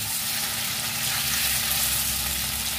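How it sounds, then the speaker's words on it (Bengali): Paneer pieces frying in hot oil in a pan, giving a steady, dense sizzle that stays loud and close for the whole stretch, with no talk. "পনিরগুলোকে একটু নেড়ে চেড়ে নেই, হালকা একটু লালচে ভাব আসলেই তুলে দেবো।"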